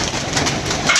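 Kept pigeons give a short, soft cooing call, close by, over a low rushing background in bad weather.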